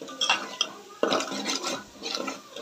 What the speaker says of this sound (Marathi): तर मस्त म्हणजे तेलामध्ये छान आपला मसाला फिरून घ्यायचा व्यवस्थित.